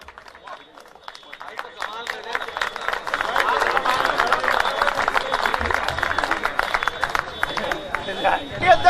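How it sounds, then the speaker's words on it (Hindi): An audience at a Hindi poetry recital breaks into applause, a dense clapping that swells and holds for several seconds, with a speaker's voice over it. "मैं एक बार जोरदार ताली बजा"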